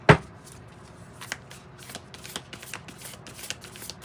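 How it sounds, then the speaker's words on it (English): Hexagon-shaped oracle cards are shuffled by hand, opening with one sharp snap of the deck followed by a string of soft, quick riffling and sliding rustles, close and quiet, with no speech. "try to shuffle these hexagon"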